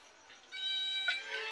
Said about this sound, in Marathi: मांजर बघ कसा रडता.